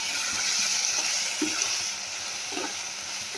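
Eggplant frying in a pan as turmeric and chili powder are stirred through, a loud continuous sizzle with soft spatula scrapes, close and steady with no voices.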